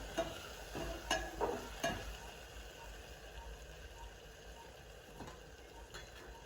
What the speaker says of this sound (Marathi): तेलात मस्त होतं आता छानसं वाटण परतत आलं आहे